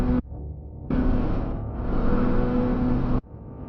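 A truck's engine revs hard as it speeds up in pursuit of a car, a steady loud roar broken by abrupt cuts into quieter stretches.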